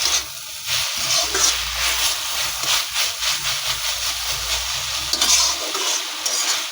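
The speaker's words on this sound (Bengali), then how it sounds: "এখন এটাকে এইভাবে ভালো করে ভেজে নেব" Jute leaves, salted and with their water cooked down, sizzle in a frying pan with a steady hiss and occasional scraping of stirring, close and continuous.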